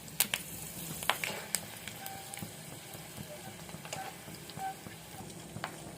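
A tempering of oil, dried red chillies, crushed garlic, cumin and curry leaves in a small pan for drumstick-leaf chutney gives off faint, scattered crackles and pops over a soft, low sizzle.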